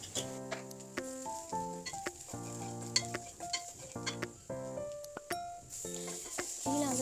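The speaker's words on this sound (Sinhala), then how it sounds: "මම තෙල් ටිකක් තියලා ඒකට ඉඟුරු සුදුලූණු ලූණු රම්ප කරපිංචා එතකොට 3-5 මිරිස් කුඩු ඔය හැමදේම දාලා" Ginger, garlic, onion, curry leaves and chili powder fry in oil for a mushroom curry, a sizzle broken by stirring clinks and scrapes, with steady background music playing over it.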